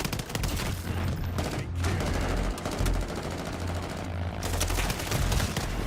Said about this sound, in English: Allied crossfire